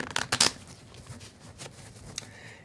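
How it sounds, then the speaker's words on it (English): A pack of playing cards is shuffled in a few quick riffling bursts, crisp and close, followed by softer handling and a last brief snap. "So Maria, give the pack a shuffle so that nobody knows anything about the order of the cards"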